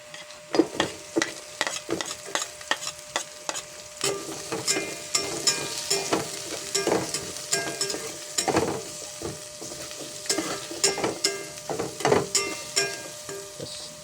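Onions sizzle in a hot pan for batchoy, with a steady fry broken by repeated scraping and stirring clatter up close, and no talking.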